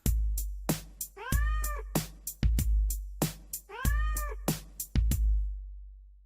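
A punchy programmed drum beat plays with deep kicks and crisp hits, and a repeating cat-like meow sample recurs in a loop.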